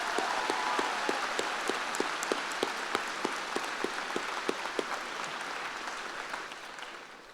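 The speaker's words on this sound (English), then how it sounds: "Please join me in another round of applause for your valedictorian, Richard Chen, and salutatorian, Rachel Mead" Sustained applause from a high school commencement audience, a dense wash of many hands with sharper individual claps standing out, steady throughout and tapering slightly at the end.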